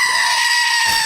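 A goat bleats loudly and close in one long, wavering, harmonic-rich cry used as a comedic sound effect.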